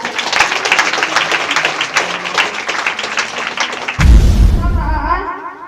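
A church congregation claps in a dense, steady patter of applause for several seconds, ending in a sudden loud thump and a burst of low rumble.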